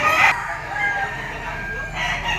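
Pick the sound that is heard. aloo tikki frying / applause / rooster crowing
rooster crowing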